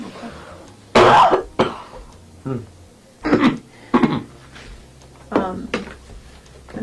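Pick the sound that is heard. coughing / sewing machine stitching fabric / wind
coughing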